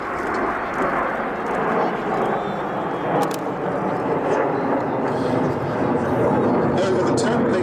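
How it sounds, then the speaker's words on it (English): Aerobatic display jets at an air show in Roskilde, Denmark, pulling up into a loop produce a continuous loud, broad jet roar that holds steady throughout, with no talk heard. "it's difficult for the pilots to fly, as they pull up now at 4G in a loop"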